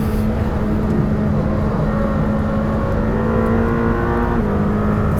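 A Lamborghini Temerario engine revs high toward 8,000 RPM from inside the car, a loud, steady, sustained drone that holds throughout without talk.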